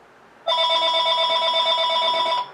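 A telephone rings with a steady electronic trill, loud and close, sounding continuously for about two seconds after a brief quiet start, with no talk over it.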